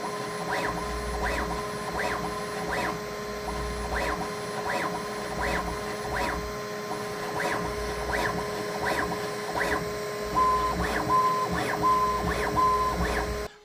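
A Bambu Lab A1 Mini 3D printer runs with its motors humming and whirring in a steady, pulsing rhythm. Small high tones chirp near the end, and the motor noise stays close and continuous with no talking.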